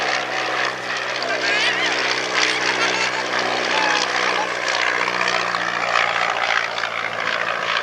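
A Royal Aircraft Factory S.E.5a First World War biplane flies past at a military airshow, its propeller engine droning steadily throughout while a commentator speaks over it.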